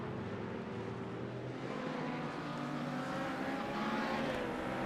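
LMP2 prototype race cars battling wheel to wheel at Spa, a continuous high engine drone with shifting pitch from several cars at once, steady and moderately loud without voices.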